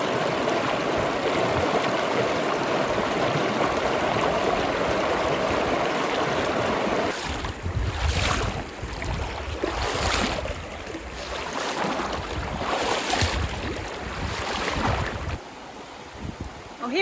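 A river rushes at a crossing near the head of a valley, a loud, continuous roar of flowing water with some surges and dips partway through.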